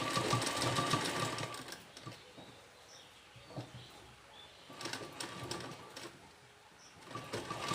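A sewing machine runs in bursts of rapid stitching, sewing a lock stitch beside a hook on fabric. The bursts are separated by quieter pauses, close and moderately loud.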